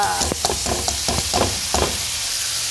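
Half-fried banana pieces in a pan are stirred and turned over a steady sizzle, with about six rhythmic scraping strokes close by and no talk.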